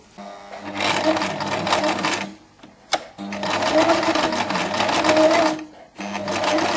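Sewing machine running in two long bursts of steady stitching with a short pause between, sewing a seam on a silk satin shirt; the whirring is close and fairly loud with no talk.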